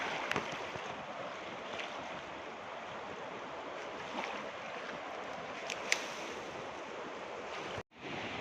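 The swollen Sutlej river surges past the banks near Burj bridge, a steady broad roar of rushing water mixed with wind buffeting the microphone, continuous and close, with a brief dropout near the end.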